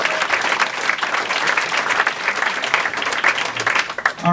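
A comedy show audience claps and cheers loudly and steadily, a dense wash of applause that begins to fade near the end.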